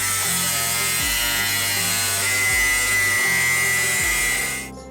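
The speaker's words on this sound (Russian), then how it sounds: "Надрезают болгаркой места изгиба." An angle grinder notches sheet-metal blanks at the bend lines, a loud, steady, hissing grind that runs for several seconds with a rhythmic low thumping beneath it, then cuts off at the end.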